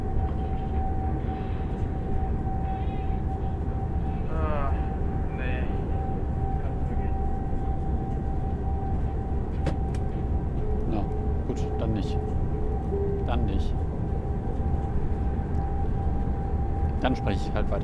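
An ICE 1 BR 401 high-speed train in Train Sim World 3 runs with a loud, constant low rumble and whine inside the cab, with a few faint electronic beeps and someone talking over it.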